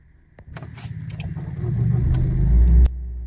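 A Renault Korea car's engine cranking with a weak battery, the starter turning over rhythmically and building for about two seconds before the engine catches into a loud, close rumble that then settles to idle.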